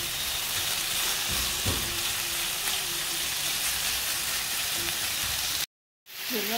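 Marinated chicken pieces frying in a pan, a loud, continuous close sizzle with a few soft stirring knocks, cut off by a brief silence near the end before the hiss resumes faintly.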